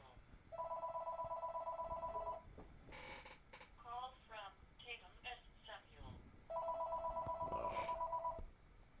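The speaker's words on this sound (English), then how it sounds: "I was getting a phone call." An incoming call sets a telephone ringing in two long electronic bursts near the start and near the end, loud and close, with brief sounds and voice between them.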